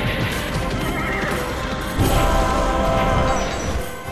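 Spirit horses in a video game neigh and whinny loudly amid a dense, continuous wash of game effects, with a heavier crashing surge partway through.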